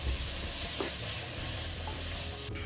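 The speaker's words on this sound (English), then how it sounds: "The masalas are nicely fried." Curry leaves and masalas sizzle steadily in hot oil for a Kerala black chana curry, with a spoon scraping and stirring through the pan in close, continuous bursts.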